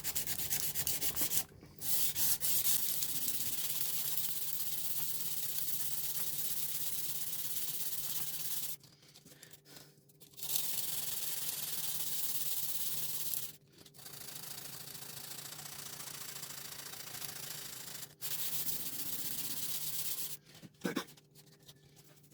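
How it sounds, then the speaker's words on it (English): A chef knife blade is hand sanded in long, steady rasping strokes, loud and close, broken by a few short pauses between passes. "So I'm gonna hand sand again."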